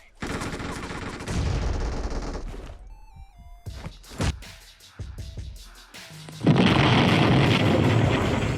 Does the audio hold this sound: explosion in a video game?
yes